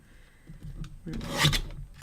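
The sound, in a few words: trimming rounded edges off paper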